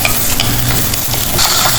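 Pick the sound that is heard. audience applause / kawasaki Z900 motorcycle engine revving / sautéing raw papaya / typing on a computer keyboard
sautéing raw papaya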